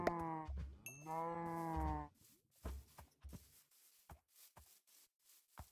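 Sheep in Minecraft bleat twice in quick succession, close and clear, followed by a scatter of soft game footsteps and clicks in an otherwise quiet scene.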